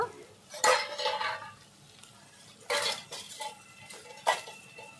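Leafy greens (shak) being stirred in a covered pan, with three clattering bursts of spoon and lid scraping against metal spaced a couple of seconds apart over quiet kitchen background.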